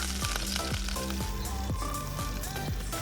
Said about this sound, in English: we are cooking dinner over a wood fire